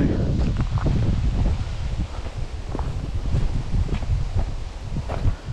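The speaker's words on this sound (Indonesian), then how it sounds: "anginnya kencang jadi cepet apabila ada potensi sedikit titik api aja angin kencang ini udah jadi daun-daun atau semak kering" Strong wind sweeping through a forest park in Indonesia, a steady broadband roar with intermittent leafy rustles and brief crackles running throughout at fairly close range.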